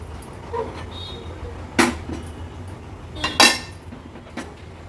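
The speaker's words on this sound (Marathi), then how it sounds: "आता एका पातेल्यात मी काढून घेते." Finished drumstick, tomato and potato curry is moved into a cooking pot, with two sharp metallic clinks of a ladle against the vessel over a low kitchen background.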